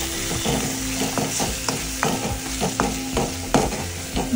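Salt, chilli powder, coriander powder and garam masala sizzle with a tomato chilli paste for a paneer mushroom curry, with close, repeated spoon scrapes against the pan over a constant hiss.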